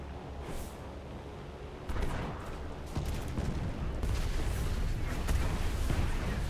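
Naval gunfire from 125 mm guns in the War Thunder naval battle game, with heavy booming blasts and rumbling bursts piling up into a loud, dense, continuous roar of battle.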